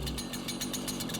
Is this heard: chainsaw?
yes